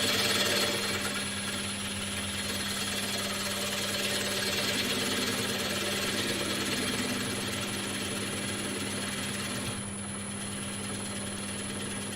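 A wood lathe turning a large platter while a tool cuts across it, a dense, steady whirring and chattering roar with a constant motor hum, close and fairly loud, no talking.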